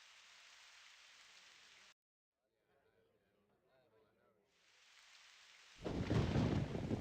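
Rain and thunder in the game Asheron's Call: a steady hiss of rain cuts out, quiet rumbling follows, then the rain returns and a loud thunder crash rolls in at the end.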